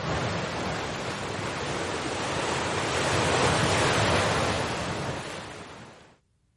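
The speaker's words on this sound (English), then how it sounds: "The wind and waves from the storm moved the sand in, Ranger Earl said" Ocean waves and wind on a beach after a storm: a steady, loud broadband roar of surf with gusting wind across the microphone, swelling slightly midway before cutting off.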